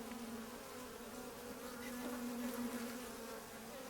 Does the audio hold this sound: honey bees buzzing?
yes